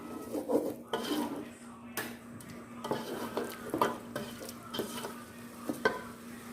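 Chana dal stirred and roasted in a pan, with steady sizzling and repeated scraping of a spoon against the pan, the metal clinks coming in an irregular rhythm, close and clear.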